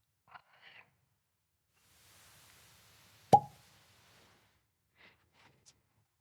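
A cork is pulled from a green Laphroaig Scotch whisky bottle, giving one sharp, close pop midway, with faint handling rustles before and after in an otherwise quiet room.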